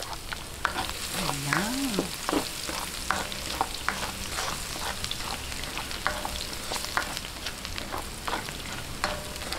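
Garlic sizzles in a pan for chicken adobo in coconut milk, a continuous close fry with frequent rhythmic scraping stirs, while someone speaks briefly over it.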